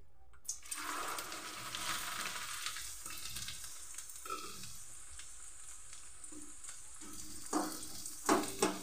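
Chana dal deep-frying in oil in a pan gives a steady close sizzle and bubbling, with occasional scraping and stirring knocks growing louder toward the end, no talking.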